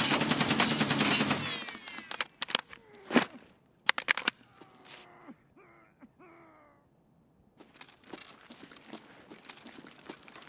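Gunfire in Escape From Tarkov comes as a loud burst of sustained automatic fire followed by sharp separate shots with echoing tails, then a brief quiet stretch and more distant crackling fire, with no talking.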